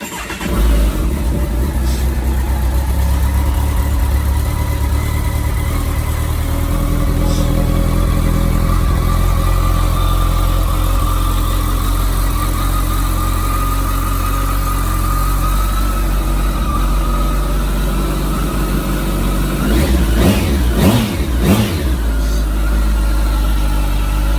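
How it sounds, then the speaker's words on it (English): A 2020 Kawasaki ZX14 motorcycle with a full M4 exhaust rumbles loud and close at a steady deep idle, then gives a few quick throttle blips near the end. "Let's see what this thing sounds like right now."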